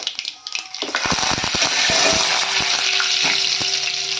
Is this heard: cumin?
yes